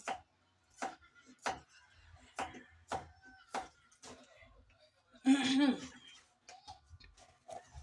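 A knife slicing onion on a cutting board while cooking a viand dish, sharp regular chops spaced about half a second apart, close and distinct, with a brief voice and light laughter midway.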